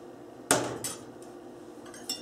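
A utensil clanks against a pan while flour is worked into melted butter for a mac and cheese roux: one sharp metallic knock followed by lighter scraping taps, fairly quiet and close.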